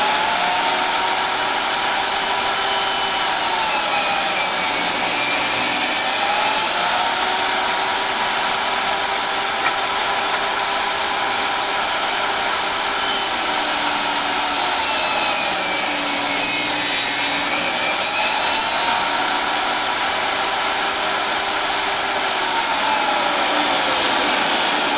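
A power saw cuts two-by-four pieces of wood for a turned candy bowl block, a loud steady whine with rising and falling pitch as each cut passes, running continuously close up with no talk.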